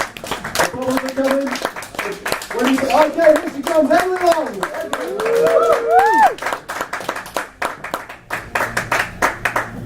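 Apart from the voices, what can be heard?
audience clapping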